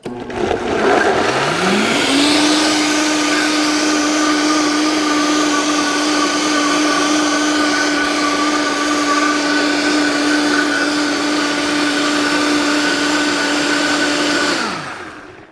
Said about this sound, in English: Okay, so we have it on and we're gonna turn it, blend it up.